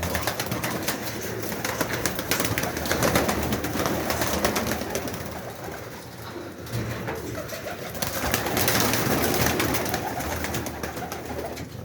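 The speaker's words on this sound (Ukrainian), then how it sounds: "Це настояща бакінська птиця." Baku pigeons coo steadily and softly throughout, overlapping calls layered over a dense, rustling background with no talking.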